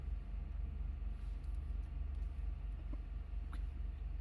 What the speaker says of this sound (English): Some big freaking truck is parked right outside my thing.